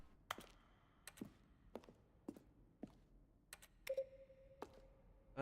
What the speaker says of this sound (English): Each is a mix of keyboard strokes and synthesized.